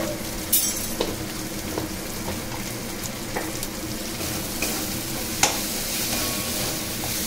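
Chicken pieces coated in biryani masala sizzle steadily in an oiled pan for chicken kosha, with scattered scraping strokes of a spoon stirring through the frying, close and alone without speech.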